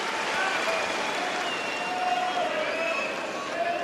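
A tennis crowd at the 2012 Melbourne match between Hewitt and Raonic applauds a lob with steady, dense clapping that holds at an even level throughout.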